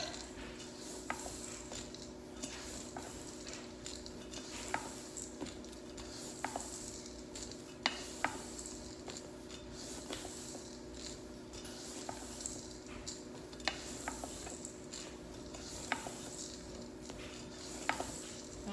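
Energy bar mixture stirred in a bowl, with soft repeated scraping and occasional light clinks of the utensil against the bowl, steady and close under a constant background hum, no talking.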